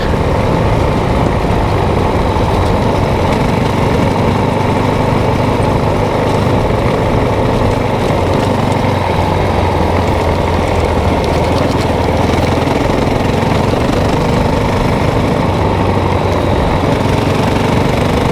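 A motorcycle engine drones steadily and loudly throughout a ride along a Rocky Mountains road, with a constant wash of wind and road noise and no speech.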